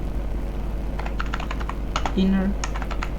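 Rapid, light keystrokes on a computer keyboard as JavaScript code is typed, several quick clicks in short bursts over a steady low hum, with a brief tone near the end.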